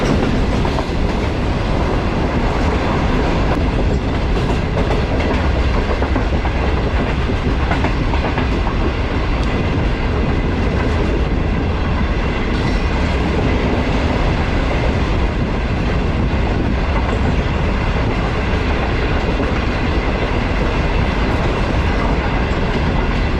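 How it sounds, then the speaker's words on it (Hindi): Shalimar Express running through Landhi Junction station, a loud, unbroken rumble of wheels and carriages with rhythmic clickety-clack heard close from on board, steady for over twenty seconds with no voices. "पूरे 6:45 बजे ट्रेन जो है हमारी वो स्किप कर रही है लांडी जंक्शन रेलवे स्टेशन को"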